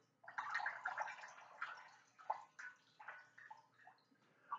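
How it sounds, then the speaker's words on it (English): Water runs and splashes out of a squeezed sponge, a close trickling and gurgling stream in uneven surges that gradually tapers with a few drips, no speech over it. "you can see some water pouring out of the sponge, right?"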